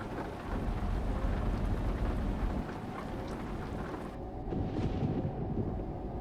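A thunderstorm in a truck driving video game: steady, dense rain hiss with low rumbling, continuous throughout and fairly loud, with the rumble swelling again near the end.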